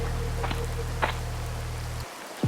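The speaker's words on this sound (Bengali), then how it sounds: "এখন এত রাতে এই বৃষ্টির মধ্যে আমি রিক্সা খুঁজতে যাব কোথায়?" Steady rain falls at night, a dense even hiss with a low rumble that cuts off abruptly near the end, leaving brief near-silence.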